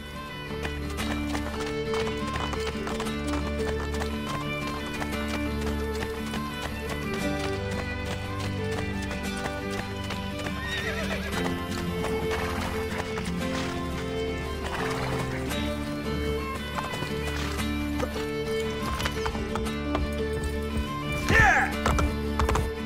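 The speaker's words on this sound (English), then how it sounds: "I have lost his favorite horse." Horse galloping and neighing in the Assassin's Creed video game, a steady clip-clop of hooves running under a continuous game music score, with a whinny near the end.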